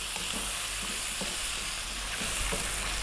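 Vegetables, including potato, sizzle steadily as they stir-fry in a hot pan, a dense continuous crackle with faint scraping stirs underneath, close up and without any talking.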